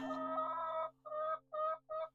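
Backyard chickens in their coop give a drawn-out cluck followed by three short, evenly spaced clucks, close and fairly quiet.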